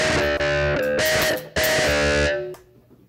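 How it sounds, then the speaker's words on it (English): Electric guitar chords through a Digitech RP80 pedal's thick, buzzy vintage fuzz, strummed in bursts with a short break midway, ringing loud and then fading out. "We have a vintage fuzz distortion"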